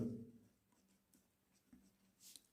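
Pen writing on paper while working a class 8 maths percentage problem, soft scratchy strokes in short bursts, close and quiet, with no talking.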